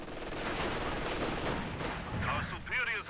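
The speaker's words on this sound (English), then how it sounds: "MG42 firing away against the garrison now." An MG42 machine gun fires rapid bursts in Company of Heroes 2 against a garrisoned building, crackling steadily amid ongoing battle noise with brief higher-pitched effects near the end.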